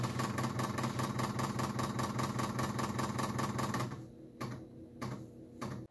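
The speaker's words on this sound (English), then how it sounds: "I started noticing some odd noise coming from the floppy drive, like this" A Commodore 128D floppy drive makes an odd, rapid, steady mechanical chattering and grinding for about four seconds, then drops to a quieter hum broken by a few short clicks and knocks.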